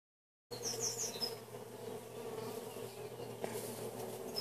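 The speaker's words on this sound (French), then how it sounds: "il y a des abeilles à la petite fente que je vous parle" Honeybees hum at a narrow slit in the hive entrance, a soft, steady buzzing close by with a few louder passes of individual bees.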